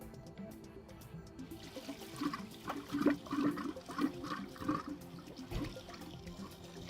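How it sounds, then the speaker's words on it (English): Water gushes and gurgles from a hose into a whole-house water filtration tank, a faint, uneven rushing flow with bubbling pulses, no one speaking. "we're going to slowly turn the water on to allow water into the tank"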